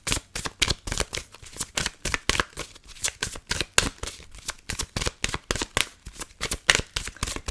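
Tarot cards being shuffled by hand, a fast run of crisp riffling bursts repeating in a steady rhythm, close and alone without talk.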